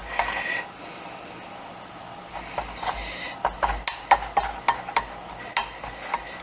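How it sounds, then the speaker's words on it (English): A spatula scrapes down the sides of a bowl while stirring flour into a rehydrated dehydrated sourdough starter, heard as soft, irregular scrapes and light clicks that grow more frequent toward the end, with a faint background hum. "Side scrape down a little bit, kind of just like what you do with a regular starter, and get everything, get all that flour in there."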